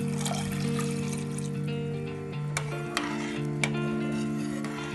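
Cold meat broth pours from a glass into rice pilaf, a steady liquid trickle under a low hum, followed by a few light clicks and taps near the end.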